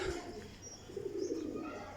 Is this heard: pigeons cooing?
yes